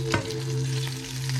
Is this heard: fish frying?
yes